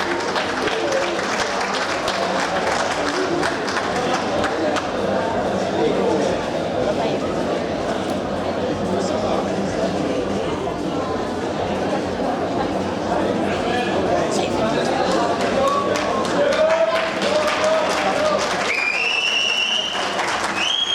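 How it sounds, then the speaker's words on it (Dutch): Audience applause at a men's 70 kg bodybuilding championship prize ceremony: sustained, loud clapping from a crowd filling the whole stretch, with some chatter and a few whistles near the end. "Groot applaus voor de heren 70 kilo."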